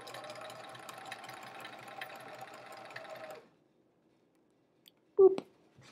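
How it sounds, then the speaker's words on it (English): Sewing machine stitching quilt sashing pieces together, a steady rapid motor whir and needle chatter for about three seconds, then it stops into silence before a short noise. "now we sew this one to the other one"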